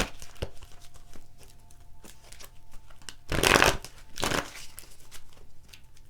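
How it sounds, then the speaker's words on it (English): Tarot cards are shuffled by hand, a soft riffling and slapping of the deck with a louder burst of shuffling midway, close and quiet, without talk. "And this is a shuffle I would have done to connect to y'all's energy."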